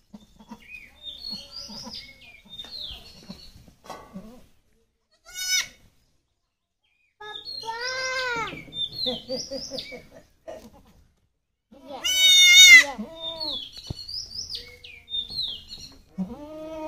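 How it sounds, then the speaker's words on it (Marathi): A newborn goat kid in a village near Mahad bleats repeatedly, near and loud, in several wavering cries separated by pauses, with high chirping birds scattered between them. "नवीन पिल्लाचा आवाज."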